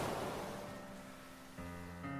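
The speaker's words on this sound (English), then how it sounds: "Water lapped at the sides. All you could see was a dark blue through the white foam churning on the surface." Water laps and churns with white foam on the surface, a soft continuous wash of surf-like noise that stays steady and fairly quiet throughout, with faint tonal hum layered in near the end.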